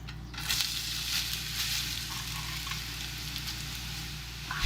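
Noodles dropped into a wok with about four tablespoons of hot oil for crispy noodles, giving a steady, close sizzling hiss that holds evenly from start to finish with no talking.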